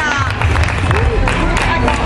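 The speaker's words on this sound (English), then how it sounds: "Come on up, give him a great big clap" A live audience claps for a volunteer called up during a French guillotine stage routine. The dense, steady applause runs throughout, mixed with crowd noise and people talking.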